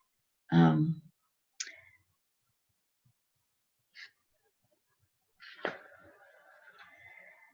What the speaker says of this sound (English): I'm turning pages and things here.